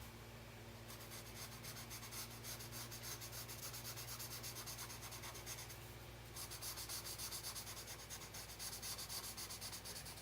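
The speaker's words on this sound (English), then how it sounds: "I can tell I've never used the chisel on this marker. It's a lot more scratchier than some of the others." A chisel tip marker scratching across paper while colouring in a large pumpkin area, a steady rhythmic rasping of back-and-forth strokes, close and fairly quiet, with a brief pause midway.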